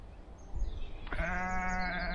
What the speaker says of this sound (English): There's the sheep saying hello.